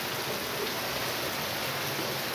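Steady rain falls on vegetable garden beds after a heavy morning downpour, a dense continuous hiss of drops with no pauses, moderately loud and even throughout, with no voices.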